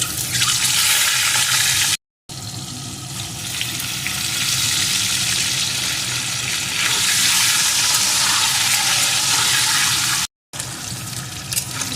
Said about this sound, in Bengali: এখন ডিমগুলোকে এর ভিতরে দিয়ে একটু ভেজে নেবো